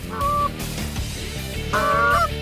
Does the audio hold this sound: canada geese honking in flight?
yes